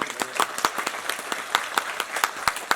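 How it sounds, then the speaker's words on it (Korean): A theater audience claps after the final curtain-call stage greeting of the musical 'Shining', a dense, steady burst of many hands with a few sharper individual claps standing out, heard alone. "여러분들 박수 한 번만 박수 한번"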